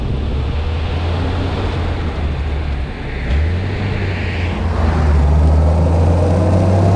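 A 1934 Mercedes 290 Cabriolet D engine drones low and steady, shifting to a slightly higher, rougher hum midway as it rolls downhill under engine braking.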